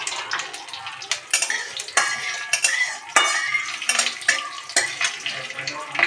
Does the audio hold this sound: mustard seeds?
yes